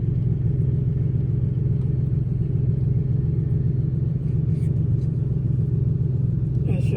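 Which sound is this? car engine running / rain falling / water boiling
car engine running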